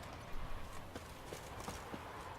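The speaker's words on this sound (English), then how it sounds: "Oh, that is a random horse," A horse trots in The Witcher 3 game world, its hooves producing a quiet, rhythmic clip-clop of several soft strikes over a low ambient background.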